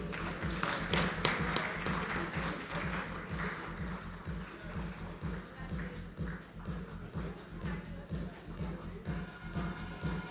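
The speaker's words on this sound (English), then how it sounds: "Ladies and gentlemen, keep the applause going." Audience clapping steadily at an awards ceremony in Mumbai, a dense, even patter of many hands sustained throughout without fading.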